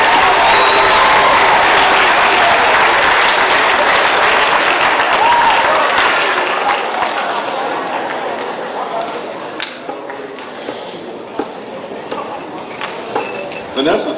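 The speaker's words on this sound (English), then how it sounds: "Give Vanessa a big round of applause." A school celebration crowd gives Vanessa McClary a loud round of applause that holds for several seconds and then slowly thins to scattered claps and clinks as the room quiets.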